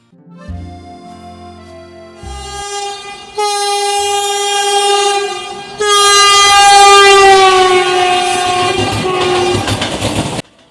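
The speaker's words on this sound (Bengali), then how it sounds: "হলো ট্রেন দেখা এবার বাড়ি ফেরার পালা" A passing train sounds its horn in long, loud, sustained blasts that swell as it nears, over rumbling wheel clatter, with no voices.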